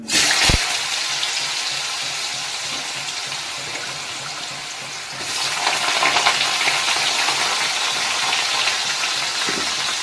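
Cut potatoes hit hot oil in a wok with a loud sizzling burst, then settle into a steady close frying hiss that swells again midway, with no talking.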